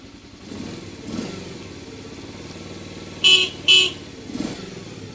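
An old Bali-registered motorcycle idles steadily nearby, then two short, loud horn beeps sound one after another, with the engine running on underneath.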